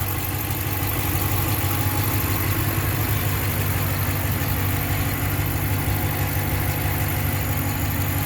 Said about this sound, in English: Hopefully you can hear the engine.